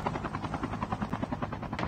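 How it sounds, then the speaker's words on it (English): Helicopter arriving in Call of Duty Mobile, heard as a steady rapid rotor chop with a low throbbing hum, fairly loud and continuous, no talking. "There's a heli dropping in."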